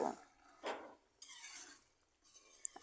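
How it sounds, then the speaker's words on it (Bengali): Cauliflower stalk chorchori with mustard paste being stirred in a pan, a few quiet scraping strokes and soft clinks spaced apart, faint and close, with no talking. "মিশিয়ে নিতে হবে এভাবে লাড়িয়ে চাড়িয়ে আরও কিছুক্ষণ ফুলকপির ডাটার চচ্চড়ি রান্না করে নেব"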